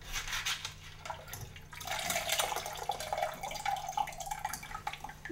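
Water swished and sloshed around sprouting seeds inside an Easy Sprout container, giving close, irregular splashing and dripping with a rubbing, trickling quality that swells and fades.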